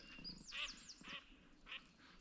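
Ducks quack several times in short, separated calls at a wooded, overgrown wild campsite, faint and distant against a quiet outdoor background.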